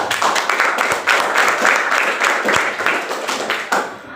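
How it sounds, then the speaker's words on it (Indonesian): Classroom applause for a student group, a dense patter of many hands clapping steadily at close range for about four seconds, with faint voices underneath, tapering off at the end. "Tepuk tangan untuk."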